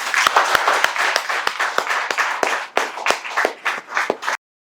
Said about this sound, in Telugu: నాతో పాటు ఇక్కడ విద్యార్థులందరూ చప్పట్లతో మీకు స్వాగతం తెలియజేస్తున్నారు